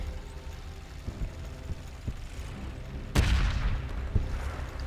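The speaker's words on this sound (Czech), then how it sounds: "To byl velký výbuch, no a dopadlo to velice nepříjemně blízko" An artillery shell explodes in the Men of War 2 war game: a low, muffled battlefield rumble gives way to one sudden loud blast, which leaves a churning, crackling rumble behind it.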